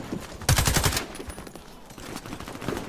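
An automatic rifle fires in the video game Warface, a rapid burst of close, loud shots followed by fainter scattered gunfire.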